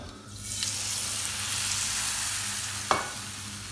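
Chickpea socca batter fries in hot olive oil in a pan, giving a steady broadband sizzle throughout with one sharp clink near the end, no voices.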